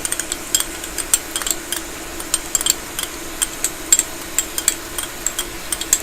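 A spoon scrapes and clanks against a hot pot in irregular taps while ground beef and garlic brown with a soft sizzle underneath. The sound is close and there is no talking.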